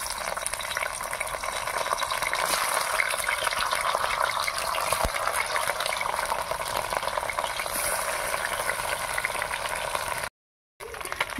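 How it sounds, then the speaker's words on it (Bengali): Parshe fish fry in hot mustard oil in a wok, giving a loud, steady crackling sizzle that runs unbroken, close and alone. "তেল গরম হয়ে গেছে, এবার মাছগুলো ভেজে নেব।"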